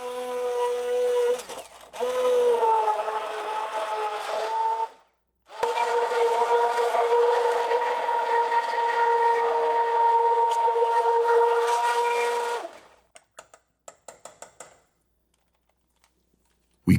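An electric blender purées tomatoes, garlic, vinegar and smoky chili for chicken tinga: a brief burst, a pause, then a long steady motor whine of several seconds that cuts off into a few small clicks and near silence.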